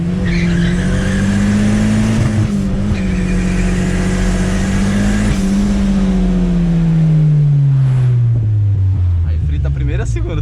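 Chevrolet Chevette on worn tires revving hard while the wheels spin and squeal through first and second gear, a loud near engine whine rising then dropping at the shift, tire screech layered on top, with voices heard.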